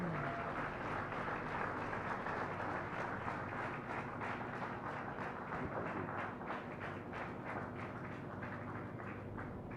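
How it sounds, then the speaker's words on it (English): An audience applauds at a flagging-off ceremony for the sailing vessel INSV Tarini, a sustained burst of many hands clapping that fades slightly over about ten seconds. "Let's have a big round of applause."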